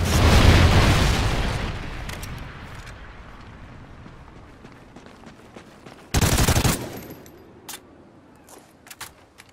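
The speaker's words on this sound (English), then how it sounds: "Friendly Trinity rocket inbound." Rocket killstreak explosions and gunfire in Call of Duty: Ghosts during a team deathmatch on the Stonehaven map: a loud rumbling blast opens, fading into scattered shots, then a sharp, heavy explosion bursts midway with a few faint pops after.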